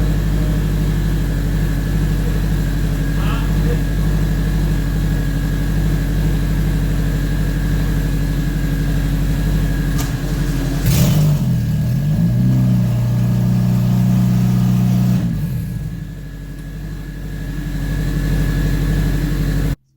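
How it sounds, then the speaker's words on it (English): An 8th gen Honda Civic Si sedan fitted with a K20 engine, idling loudly and steadily close by, with a rev around the middle that rises and falls before settling back to idle. "So anyways, we got the 8th Gen SI sedan running"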